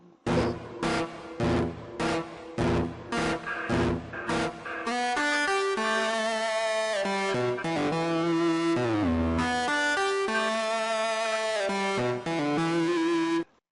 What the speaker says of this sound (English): And this is known as the electric guitar.